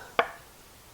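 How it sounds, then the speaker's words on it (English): A single sharp knife stroke through a canned whole potato lands on a cutting board, one crisp close cut followed by quiet. "if they're a longer potato, you can just cut them lengthwise and then just cut it 3 times."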